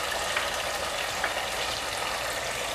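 Tomatoes hitting frying onions in a pan, giving a steady, close hissing sizzle with faint crackles and no voices, part of an egg dish.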